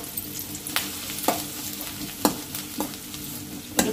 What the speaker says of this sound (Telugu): ఉల్లిపాయలను బ్రౌన్ కలర్ వచ్చే వరకు ఫ్రై చేసుకోవాలి.